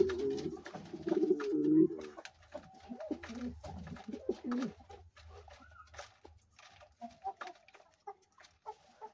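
Pigeons on a rooftop coo and flutter after drinking water in the summer heat, with a loud burst of low cooing and throaty calls early on, then softer scattered calls and light rustling continuing.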